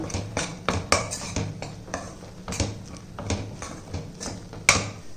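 Ragi flour is stirred in a pan on a stove set to low flame. A utensil clinks and scrapes against the pan in an irregular, busy rhythm with a few sharper knocks, close by and without talk.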